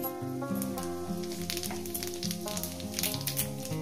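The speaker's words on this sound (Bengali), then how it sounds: "এই তেলে দিয়ে দেবো একটু জিরে" Cumin seeds fry in hot oil with a steady, close sizzle under tonal background music.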